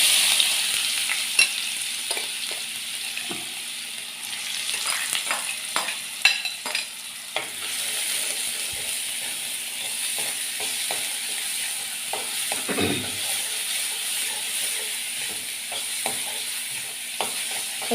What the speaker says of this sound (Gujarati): પછી ડુંગળીને થોડીક જ વાર સાતળવા દેવાની છે, બહુ નથી કરવાની.